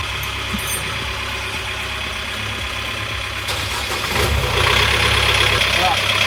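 A boat engine runs steadily at idle with a continuous rough drone, growing a bit louder toward the end as a person talks over it.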